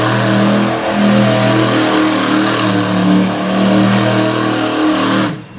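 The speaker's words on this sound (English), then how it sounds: "Look at that thing hop when he spins that donut right there." The Virginia Giant monster truck revs hard while spinning a donut at a Renegade monster truck event in Franklin, PA, its loud engine roaring steadily and close for several seconds before dropping off at the end.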